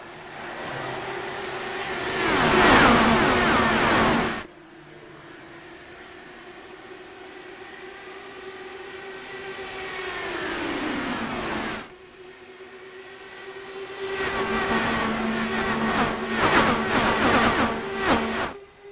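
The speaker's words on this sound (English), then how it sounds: "It's a visceral thrill hearing the cars fly by and into turn 3, diving for the race lead." IndyCar race cars in the iRacing video game fly past into turn 3 at Indianapolis, with engines whining at full throttle, swelling loud as they pass and then dropping in pitch, one car after another, with no talking.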